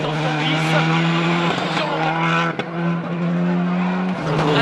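A 2007 WRC rally car spins off a corner onto the grass, its engine droning loudly as the tyres skid and squeal, with a race commentator talking over it.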